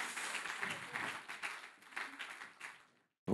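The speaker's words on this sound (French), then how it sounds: "vous pouvez les applaudir, voilà, pour cette montée de scène" Soft, distant applause from a conference audience as panelists take the stage for a round table on commercial revitalization. The clapping swells and fades for nearly three seconds, then stops.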